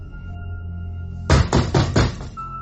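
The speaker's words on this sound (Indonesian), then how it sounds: "aku dengar pintu kamarku kembali diketuk dengan kuat" A bedroom door is knocked hard four times in quick succession, loud heavy thuds in a horror story setting, breaking a quiet low hum.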